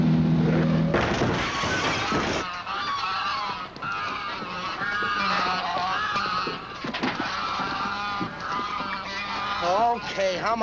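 A flock of geese honks loudly and continuously in an old 1941 comedy film soundtrack, overlapping calls filling the scene with a brief crash near the start.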